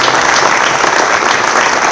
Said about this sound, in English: Give Mr. Ayers a round of applause.